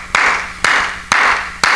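Hands clap in Pentecostal worship: four sharp, close claps fall evenly about half a second apart.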